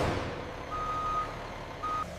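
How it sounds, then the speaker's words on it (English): A truck backing into a loading position at a cashew factory emits two steady reversing beeps, one long and one short, over a constant rumble of engine and yard noise. "Precision guides the truck into position for loading."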